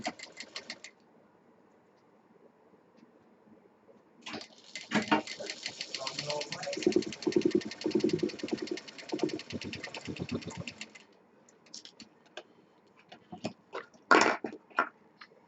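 A sewing machine runs in a steady stitching burst across the middle of the clip, sewing the drawstring strip onto a fabric potli bag, with quiet gaps and a few clicks of handling before and after.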